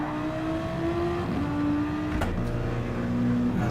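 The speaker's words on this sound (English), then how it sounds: "I'd slightly turned the volume up on the engine noise of the Audi" An Audi race car in a racing video game league round at the Circuit de Catalunya gives a steady, droning engine note that shifts pitch as gears change, loud and continuous with no talk over it.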